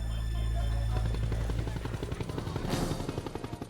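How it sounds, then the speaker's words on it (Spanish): A military combat helicopter from an Army medical company arrives at a rescue scene for workers trapped in a collapsed grain elevator. A loud, continuous rotor roar with a rapid thumping beat fills the whole clip. "A las 11:30, un helicóptero de combate de la Compañía Médica 82 de Fort Riley llegó para ayudar a rescatar a los trabajadores atrapados."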